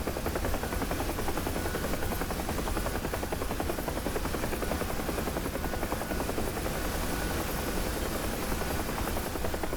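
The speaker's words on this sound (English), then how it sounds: "let's not try to land the chopper" UH-1 Huey helicopter flying in the DCS World simulator, heard as an unbroken, loud blend of rotor chop and engine whine, steady throughout and free of speech.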